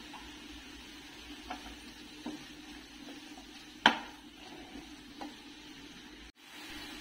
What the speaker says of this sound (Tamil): இன்னும் கொஞ்சம் நெய் சேர்த்து நல்லா கிளறினே இருக்கலாம்